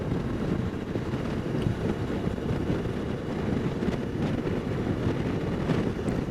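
Steady, loud wind roar buffets the microphone throughout, a dense low rumble like rushing air while riding a Suzuki V-Strom 650 motorcycle at speed on Highway 1, with no voices.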